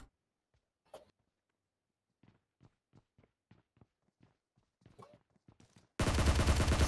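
Automatic gunfire in the mobile battle-royale game PUBG Mobile. Faint scattered ticks and taps give way to a sudden, loud, sustained burst of rapid shots in the final second.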